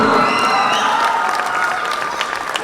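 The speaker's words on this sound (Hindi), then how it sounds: "अपने लिए एक बार जोरदार तालियां बजा दीजिए." A large audience of more than 500 people at a business conclave applauds and cheers loudly and steadily, a dense wash of clapping with shouts and whistles, fading slightly toward the end.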